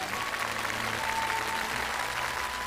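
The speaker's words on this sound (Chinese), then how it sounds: "所以我觉得我们真的是应该把掌声送给张老师" A studio audience at a televised program on excavated Qin bamboo slips applauds an archaeologist, with dense, sustained clapping from many hands that stays steady and loud throughout.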